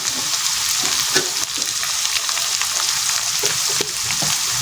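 Spices sizzle and fry steadily in hot oil in a pan while chili powder is added for Bengali bhuna khichuri, with a continuous close crackle and occasional stirring scrapes.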